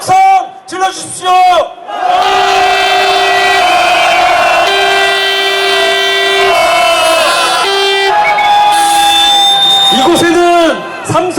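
A large protest rally crowd in Seoul, calling for Park Geun-hye's resignation and Lee Jae-yong's arrest, lets out a loud, prolonged roar of shouting mixed with blaring horns, framed by brief amplified speech at the start and end.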